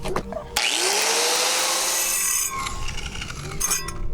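Brake caliper hardware being scrubbed clean of groove marks during a brake job, a steady loud abrasive rubbing and brushing noise that runs close and continuous, easing off near the end.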